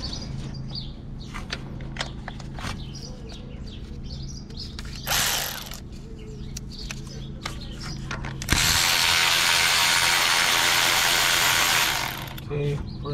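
Ratchet wrench backing out 10 mm bracket bolts on a car's coolant housing during a coolant and thermostat change: dense bursts of quick close clicking, joined midway by a loud steady hiss lasting several seconds.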